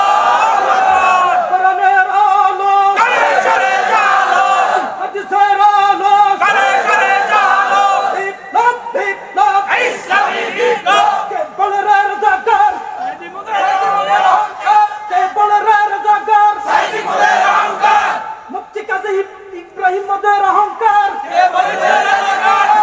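A large crowd chants takbir at a Feni rally led by a cleric, loud rhythmic massed voices rising and falling in repeated waves, with shouts and a lead voice over the crowd.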